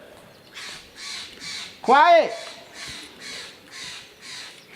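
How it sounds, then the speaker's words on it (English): Crows cawing in a rhythmic series of harsh calls, moderately near, with one loud close call midway; a voice speaks briefly over them outdoors beside a racing quadcopter drone. "Freaking birds."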